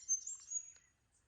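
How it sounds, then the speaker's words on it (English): A mistletoebird calls near a lake in Grafton, NSW: a few thin, high chirps over about a second, faint and fairly distant, with no voices. "Mistletoe bird."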